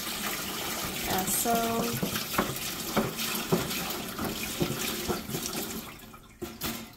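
Water runs and splashes steadily into a hot dog machine for several seconds, with a few clunks and knocks along the way before it tapers off.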